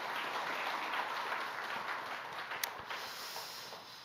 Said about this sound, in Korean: 은혜의 말씀 주신 우리 선교사님께 감사의 박수 올리시겠습니다.